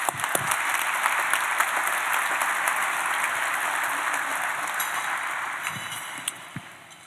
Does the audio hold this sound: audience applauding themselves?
yes